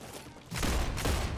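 Gunfire from a weapon in the video game StarRupture erupts as a dense, sustained burst of rapid shots, loud and continuous after a brief quieter lead-in.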